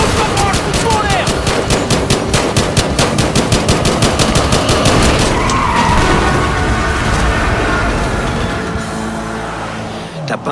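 Rapid automatic gunfire in a Battlefield game, aimed at a car, rattles loudly and steadily for several seconds, then gives way to vehicle engine and skidding noise at the end.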